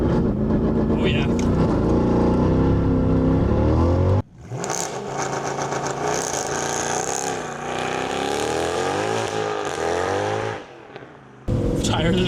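Mercedes W204 C63 with a 507 engine drifting on a mountain road, its loud V8 revving hard and wavering as the tires slide, with a brief drop in engine noise midway before it surges again; some talk is mixed in.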